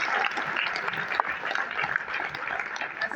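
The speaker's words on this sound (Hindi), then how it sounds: "एक बार जोरदार तालियां से" A crowd at an indoor program gathering claps continuously at moderate distance, a dense, fairly faint applause with a few louder individual claps.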